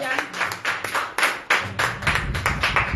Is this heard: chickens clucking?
no